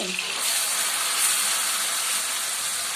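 Coarsely ground onion paste with a little salt sizzling in a hot pan for a drumstick masala curry, a steady close hiss that runs without a break.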